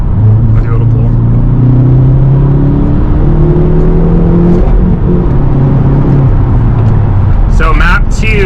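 A 2022 Hyundai Veloster N with a DCT gearbox, no bolt-ons and running map 2 accelerates hard, a loud steady engine drone rising in pitch through the pull, heard from inside the car with a brief higher whine near the end.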